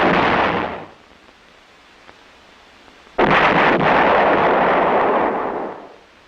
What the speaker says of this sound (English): 105mm howitzer M101A1 is the light artillery weapon of the Infantry Division. Capable of close and continuous fire